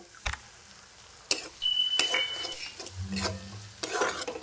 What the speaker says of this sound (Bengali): এবার একটু কষাবো ভালো করে।